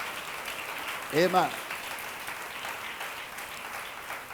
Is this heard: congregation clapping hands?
yes